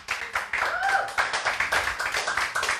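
A church audience clapping to acclaim the Lord at a French-language evangelical gathering. The claps are rhythmic and fairly loud, with some voices mixed in.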